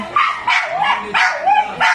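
A dog barks in quick, close bursts, about four sharp yelps in two seconds, with whiny tones between.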